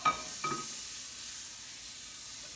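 Butter sizzling in a hot pan while a grilled cheese sandwich cooks, a steady soft hiss with a couple of brief clicks near the start.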